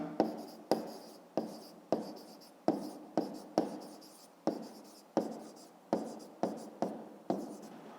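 Chalk or pen strokes of handwritten maths, a lesson on perimeter, land in a quick irregular series of about fifteen crisp taps and scrapes, each sharp at onset and trailing off, close and alone.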